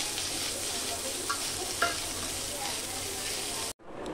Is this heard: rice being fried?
yes